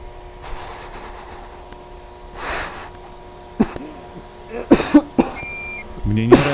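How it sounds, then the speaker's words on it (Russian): A man coughs several times in short, sharp bursts, mixed with faint background hum, tones and scattered noises. "Мне не нравится, что он кашляет."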